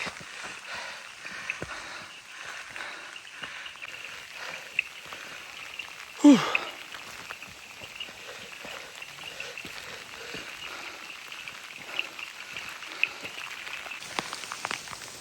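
Soft, steady rain patters on surfaces around on the Kumara Parvatha mountain trail, faint and even, with one brief louder noise partway through.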